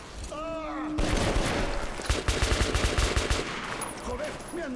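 Automatic weapon burst fire from the game Metro Last Light, a loud, sustained stream of rapid shots rattling for several seconds, with a brief voice-like sound just before it.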